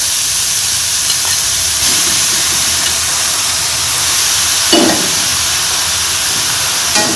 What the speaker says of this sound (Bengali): কড়াইতে শাকগুলি দিয়ে দিলাম।